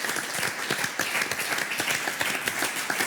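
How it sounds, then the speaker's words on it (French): Audience applause fills a French local television broadcast from Nîmes, a dense, continuous wash of many hands clapping at moderate loudness, steady throughout with no voices on top. "Applaudissements."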